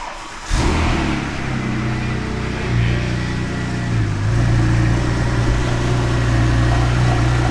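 A 3.6-litre twin-turbo sports car engine that has not run for a while cranks and fires up abruptly, then settles into a loud, steady idle with a couple of throttle blips, heard close and alone.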